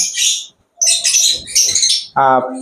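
A pet budgerigar chirps close by in bright, high tweets, with bursts of twittering and a short warbling call at the end.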